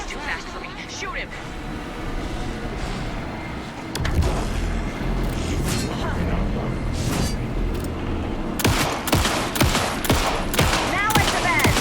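Gunfire in Alan Wake 2, with a dense run of rapid shots that grows louder and sharper toward the end, layered over a steady rumbling background.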